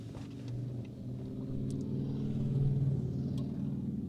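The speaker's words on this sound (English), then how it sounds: "Do you want to turn off the engine?" A car engine idles in a queue for fuel at a French petrol station during a shortage, a close, low steady rumble that swells slightly midway, with no one talking.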